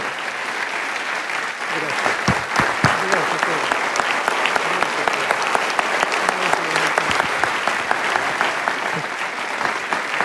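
Loud, sustained applause from a church congregation greeting pastor Eduardo Sosa, thick continuous clapping with distinct sharp claps popping out near the front and faint voices mixed in.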